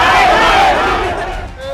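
A dense crowd of RJD party workers gathered outside the Rabri residence shouts and clamours loudly and up close, a continuous wall of raised voices that eases slightly toward the end.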